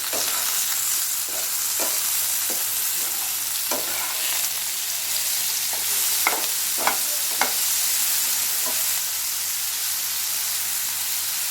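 Bitter gourd slices fry in a pan with a steady close sizzle, punctuated by sharp scraping clicks from the spatula as they are stirred and turned.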